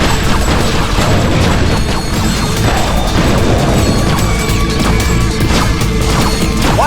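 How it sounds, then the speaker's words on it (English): A node crank mechanism extends a bridge in the video game Ratchet: Deadlocked, a loud dense mechanical grinding and clanking with crashing impacts, continuous and close throughout. "Ratchet, if you want to extend the bridge, use the node crank."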